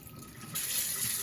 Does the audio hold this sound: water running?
yes